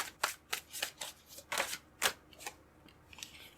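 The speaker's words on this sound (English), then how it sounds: "I'm going to pull out more cards." Tarot cards being shuffled by hand, a series of quick crisp riffling bursts in an uneven rhythm, close and fairly soft, with no talking.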